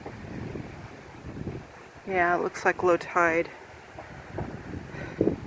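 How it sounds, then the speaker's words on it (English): Wind rushes and buffets the microphone at a foggy park shoreline at low tide, a steady blustery roar that continues under a short stretch of someone speaking. "It's really windy here today."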